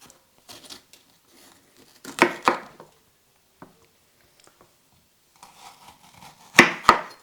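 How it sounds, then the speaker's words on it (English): A knife cuts up bell peppers on a board, with scattered crisp slicing clicks and two louder clusters of chopping strokes between quiet pauses. "I'm going to start cutting up my peppers"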